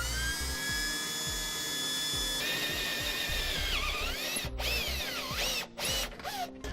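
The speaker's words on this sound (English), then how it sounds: "I'm going to be really careful when I punch that hole through" A power drill bores a hole through the steel frame of a 2015 Tiffin Allegro RV, its motor whining at a steady pitch that dips and recovers as the bit bites, then stops and starts in short bursts near the end.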